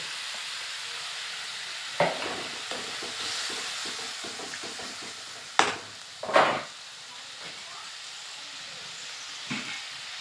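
Fish curry with tomato, green chili and onion greens is stirred in a pan: a soft steady sizzle runs underneath, and a few louder spoon scrapes stand out against it. There is no talk.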